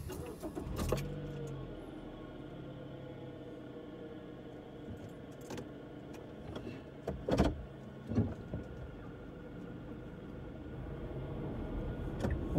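A car gets ready to set off for a ride, with a low idle hum inside the cabin, a few sharp clunks and thumps of doors or controls, and a short whirr in the middle, with no speech.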